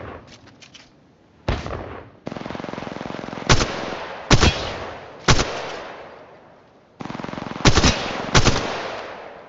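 Bursts of automatic gunfire from the video game Apex Legends, loud and close, coming in several rapid strings separated by short gaps, with no talking over them.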